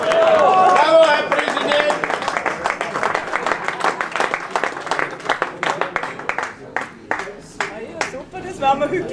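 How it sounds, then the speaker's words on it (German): Crowd applause at a carnival key handover, starting as dense clapping over a voice and loud cheering, then thinning into scattered, rhythmic individual claps toward the end. "das Riebelhaus, Riebel-Nannhaus 2013 übergeben mit Applaus"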